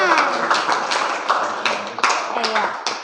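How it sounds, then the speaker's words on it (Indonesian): Students in an 11th-grade science classroom clap in scattered, uneven bursts, sharp close hand claps mixed with voices talking. "Beri tepuk tangan."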